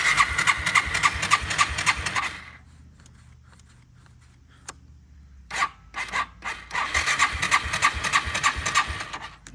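A 2001 Yamaha TTR 225 that sat for four years is cranked over on a weak battery, with a rapid ragged churning in two bursts separated by a quiet pause with a single click.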